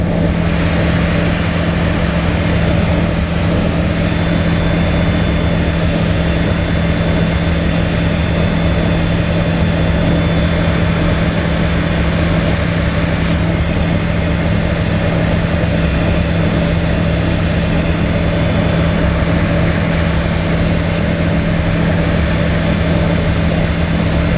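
A small airplane's engine drones steadily inside the cockpit in flight, a loud constant hum with a strong low tone and broadband roar, with no talking.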